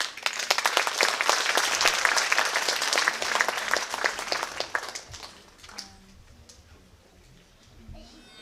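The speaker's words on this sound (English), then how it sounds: "Let's give her a round of applause." An audience claps for a dance performance at a cultural gala, a full burst of applause that thins out and fades after about five seconds, leaving quiet room sound with a few faint voices.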